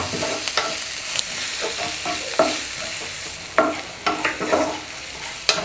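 Eggs with turmeric powder stirred in a frying pan, a loud continuous sizzle with scattered spatula scrapes and knocks, clustering toward the end, close and with no speech.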